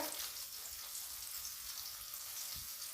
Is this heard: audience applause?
no